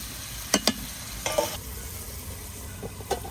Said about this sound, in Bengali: সরিষার মধ্যে দিয়ে আমি কষাই নেব কিছুক্ষণ